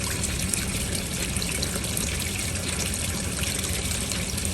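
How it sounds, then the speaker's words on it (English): Water running out of the drain spigot of a hot water tank during a flush, a steady, close splashing gush that continues evenly without pause. "Gonna let it run for a little bit, drain it out."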